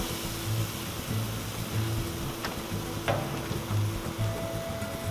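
Jalapeno turkey burgers on a Weber kettle grill give off a steady, soft sizzle with a low rumble underneath, and nobody talks.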